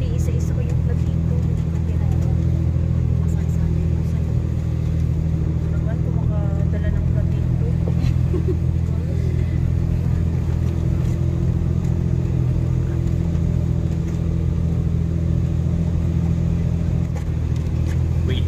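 A car with a 1.5-litre engine labours up a steep mountain road toward Wakan Village in Oman, its engine droning loudly and continuously from inside the cabin as passengers chat.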